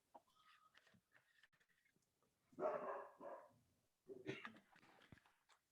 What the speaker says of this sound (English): My dog woke up.